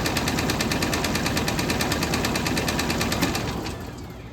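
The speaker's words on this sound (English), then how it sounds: "is it jumping because of how tight it is inside, and that's causing the vibration of the belt, or is it jumping because the belt is no good?" Electrofreeze soft-serve machine running with a loose, worn drive belt jumping and vibrating, giving a loud, steady mechanical clatter with a rapid rhythmic knock that carries on for several seconds before easing slightly.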